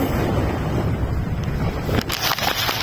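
Sea waves at the seashore wash in as a continuous roar of surf mixed with heavy wind buffeting, with a few sharper splashes toward the end and no voices.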